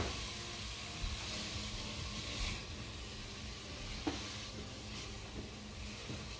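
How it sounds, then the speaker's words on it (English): Apple pie filling is stirred in a pan, giving a soft, continuous sizzle and hiss with a few faint scrapes and knocks. There is no talking. "now we're gonna stir it up"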